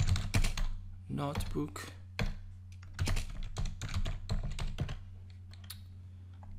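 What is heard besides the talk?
typing on a computer keyboard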